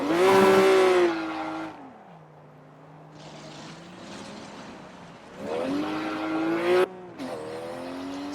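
A BMW race car in the Project CARS video game revs loud and high, its pitch dropping as it spins out, idling lower in a lull before the engine screams back up twice more.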